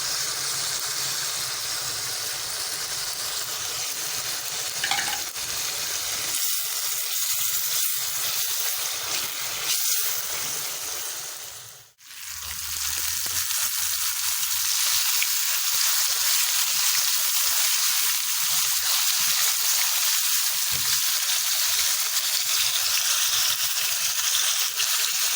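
Chicken gizzards and minced garlic fry in a pan with a steady, close sizzle and hiss that runs almost unbroken, one brief dip near the middle, then a strong bubbling crackle again.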